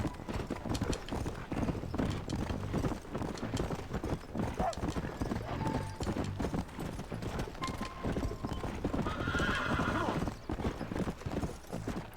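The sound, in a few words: horse galloping, Red Dead Redemption video game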